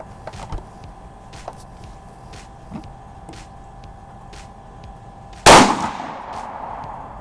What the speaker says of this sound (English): But we will go ahead and shoot the 4th round.